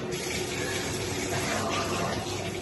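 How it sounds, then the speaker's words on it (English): Water running from a shower in an apartment bathroom, a steady, even hiss of spray without breaks, fairly quiet and continuous, with no talking. "let me open the shower."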